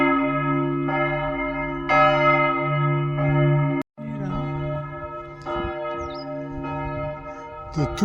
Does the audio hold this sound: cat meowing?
no